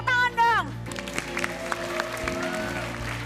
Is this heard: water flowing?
no